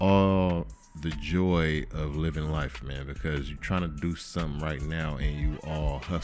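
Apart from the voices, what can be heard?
No everyday noises stand out.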